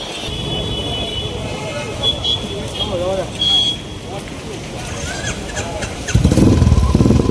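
A motorcycle rides along in the open with a steady engine drone beneath a person talking, swelling into a louder, rougher roar near the end.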